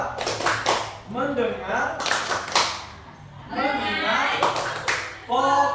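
Children in a classroom chant a rhythmic 'tepuk fokus' clap routine, with bursts of group clapping between the spoken chant lines. The clapping is close and steady, and the voices stay prominent throughout.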